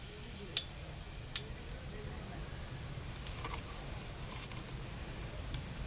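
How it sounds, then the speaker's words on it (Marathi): Curry leaves crackle in hot oil already holding mustard and cumin seeds, a steady close sizzle with a few sharp pops and occasional stirring clicks, no voices. "आता याच्यात तेल चांगलं आपलं तापलं याच्यामध्ये कढीपत्ता"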